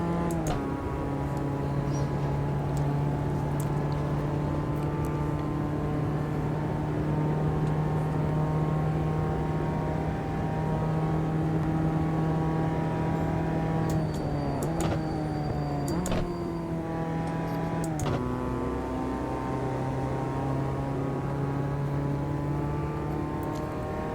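A race car engine in the sim racing game Automobilista 2 drones at a high, steady pitch for a lap, dipping briefly with quick gear changes midway before settling back to a sustained whine.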